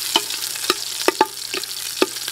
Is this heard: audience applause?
no